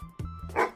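A dog barks two or three quick times, loud and close, with the yelps running into each other and no talk over them.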